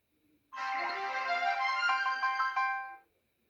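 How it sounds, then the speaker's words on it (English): A short electronic T-Mobile startup jingle from a Coolpad Rogue phone plays alone, a bright tonal melody lasting about two and a half seconds before cutting off into silence. "Now you heard that T-Mobile startup sound."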